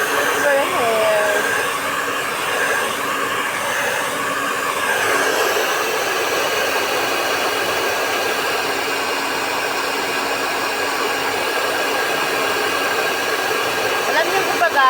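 A hair dryer that has been in use since 2008 blows in a constant loud rushing whoosh close by, running unbroken throughout.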